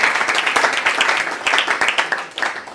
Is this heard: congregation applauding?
yes